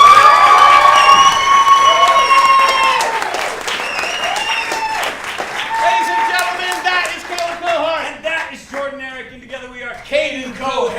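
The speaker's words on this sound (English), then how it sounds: "give a big round of applause to Kaden Koharrick" Audience members at an improv festival applaud and cheer loudly with whoops and shouts that rise and fall, while voices call out over the crowd.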